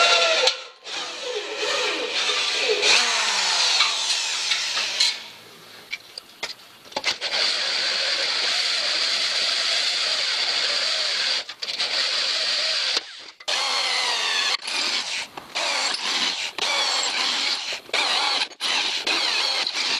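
A power drill bores a row of holes along a metal rocket stove part, with long loud whining bursts separated by short pauses and quiet gaps.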